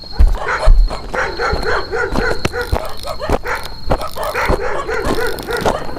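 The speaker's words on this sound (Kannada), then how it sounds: "ನಾಯಿಗಳು ಬೇರೆ ಬರುತ್ತವೆ." Several dogs bark, yip and whimper at night on an empty roadside, sharp repeated barks at close to middle distance, with a steady high insect whine running underneath.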